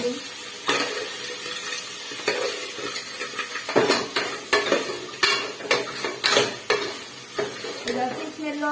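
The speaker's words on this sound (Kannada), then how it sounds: "ಫ್ರೈ ಆಗಲಿ ಅದು ಚೆನ್ನಾಗಿ" Masala frying in a pan for a crab sambar, a sizzling bed under repeated scraping stirs of a spoon against the pan, close and fairly loud, with no talking.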